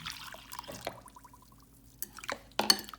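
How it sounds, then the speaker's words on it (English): Water added to sooji cheela batter with vegetables, spices and baking powder: a short trickle and splash, then quiet, then a couple of clinks and a louder splashy pour at the end. "Now I will add the water."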